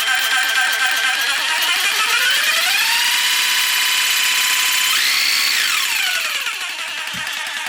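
A Ryobi R18JS-0 cordless jigsaw runs continuously and loudly with the trigger held, its whining motor pitch rising and falling as the speed is varied, then settling at the end.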